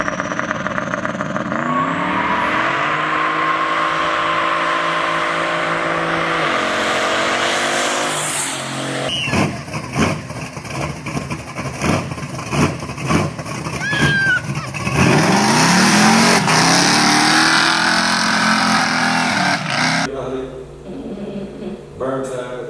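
A running race car's engine is revved hard in the street, loud and close, with a long steady drone, then a rapid series of sharp revving bursts and a dropping tail-off. Voices are heard over it.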